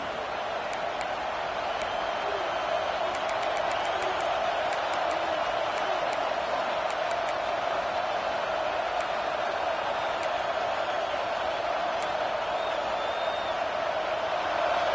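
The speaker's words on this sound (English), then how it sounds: "this crowd is making it miserable on this offense" Stadium crowd at an Alabama vs Kentucky game in an NCAA football video game, a steady loud roar that never lets up, with faint whistles and brief shouts rising above it and no clear talk.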